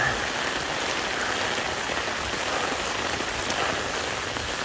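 Steady rain patters densely on a surface, a constant close hiss with no voices or other sounds.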